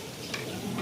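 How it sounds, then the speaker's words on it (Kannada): Onions fry golden in oil in a big batch for 25 kg Ambur-style mutton dum biryani, a brief, soft, continuous sizzle with light stirring scrapes. "ಇವಾಗ ಗೋಲ್ಡನ್ ಫ್ರೈ ಆಗ್ತಾ ಐತೆ ನೋಡಿ"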